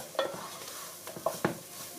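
Soup being stirred in a pot, a few soft scraping and clinking strokes of the spoon against the metal sides, close and fairly quiet, with no talking.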